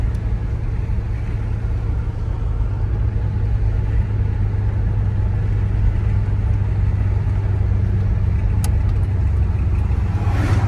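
A 1988 Chevrolet Caprice drives with a steady low engine rumble and road noise inside the cabin, the tone easing slightly as the automatic transmission shifts smoothly, with no talking.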